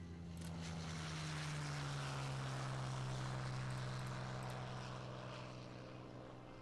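Propeller aircraft engines droning steadily in a strategy video game, a continuous loud hum that swells slightly and then eases, with no one talking.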